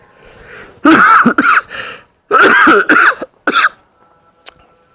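A person coughs hard several times in two loud bursts, harsh and close, followed by quiet.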